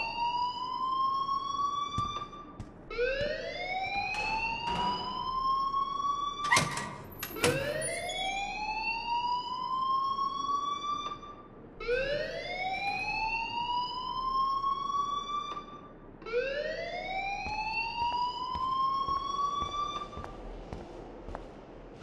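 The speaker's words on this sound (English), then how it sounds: "please turn off that alarm since that's your job" An alarm rings inside the video game Life Is Strange, a wailing, rising tone that sweeps upward and repeats in long cycles of about four seconds each. It goes on continuously and stays loud throughout.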